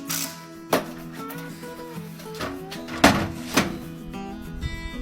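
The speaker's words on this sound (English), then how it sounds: "I install the window sash and door frame." A carpenter fits a wooden window sash and door frame in Japanese framing work, making a few sharp knocks and thunks between quieter tapping and handling noise, with a sustained tone running underneath.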